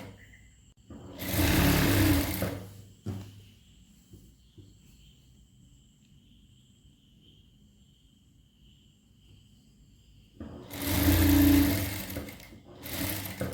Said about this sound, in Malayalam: എന്നിട്ട് ഇങ്ങനെ മടക്കി തയ്ച്ചു കൊടുക്കുക.